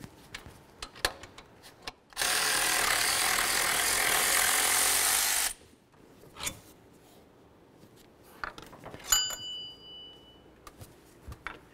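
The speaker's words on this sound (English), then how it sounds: "Now we're going to remove our two mounting bolts that hold the alternator to the bracket." A power tool whirs for about three seconds while loosening the alternator mounting bolts on a 2003-04 Chevy Silverado bracket, framed by scattered metallic clicks and clanks of tools, with a faint ringing tap near the end.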